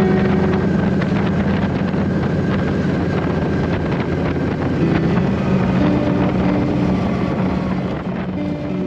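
A new motorcycle riding at speed, with a steady engine drone buried under heavy, constant wind rush on the microphone, loud and unbroken throughout.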